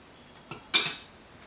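Metal spoon scraping and clinking against a cooking pot while cleaning up after making chicken à la king, with a light tap and then a louder, brighter scrape-and-clink burst, close up and with no talk.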